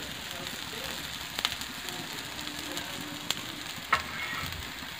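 Cowpea dosa sizzles in oil on a pan, a steady soft hiss throughout with a few small pops and clicks, fairly quiet and close, with no talking.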